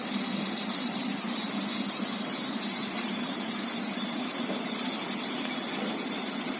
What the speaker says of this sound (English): We are opening this, means we are throttling the steam